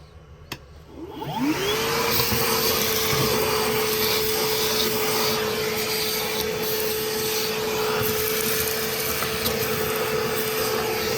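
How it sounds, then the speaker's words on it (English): A Milwaukee M18 Fuel cordless brushless shop vacuum switches on with a rising whine and then runs with a loud, steady roar and constant high-pitched motor tone. "All right, so I got my Milwaukee Fuel M18 brushless shop vac."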